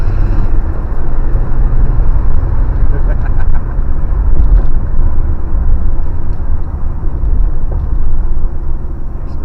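A budget DIY hot rod's engine pulls hard in third gear, a loud, constant low rumble filling the cabin for several seconds with no break.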